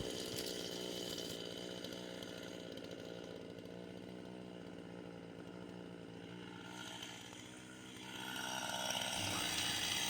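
A chainsaw runs loud and continuous, its pitch dipping and rising as it slices a pine wood round in half, then revving up again near the end.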